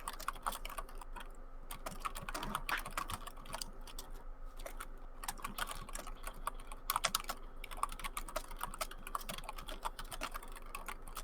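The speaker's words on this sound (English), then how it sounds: "I hear a lot of excessive typing from Abbie at the moment." Rapid, irregular clicking of keys on a computer keyboard during an online tabletop role-playing session, heard close and fairly quiet with short pauses between bursts and no talking.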